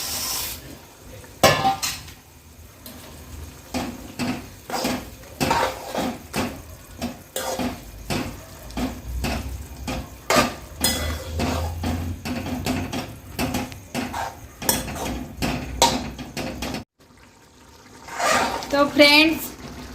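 Broken pieces of Maggi noodles dropped into a pot of boiling water, with repeated clattering of utensils against the pot and intermittent stirring and bubbling, close and fairly loud, mixed with brief talk.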